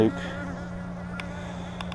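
Honey bees hum around hive frames during a spring inspection of a colony kept with a Nicot queen-rearing box, a close, steady buzz with a couple of brief clicks or knocks near the end.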